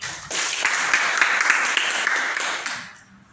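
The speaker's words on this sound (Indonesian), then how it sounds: "Coba tepuk tangan buat Tuhan Yesus." A congregation claps together in a church meeting. A dense burst of applause lasts about three seconds, then quickly fades out.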